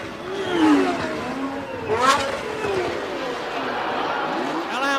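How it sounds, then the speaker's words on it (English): Formula One race cars at the 1981 Belgian Grand Prix scream past in sweeping, rising and falling engine whines, one sharp close pass standing out, under a commentator's steady talk. "They complete the lap, and it's still the Ferrari, Pironi."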